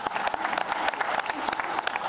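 Applause from a civil-society gathering of associations and clubs welcoming Prime Minister Amadou Gon Coulibaly, a steady dense clapping from a crowd throughout, fairly close and even in loudness.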